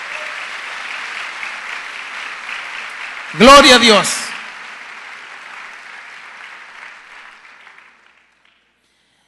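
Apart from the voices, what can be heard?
congregation applauding in church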